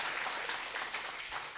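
Applause from a women's product-training camp audience, a brief, fairly faint patter of many hands clapping at an even level, with no voices.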